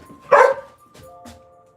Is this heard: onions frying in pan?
no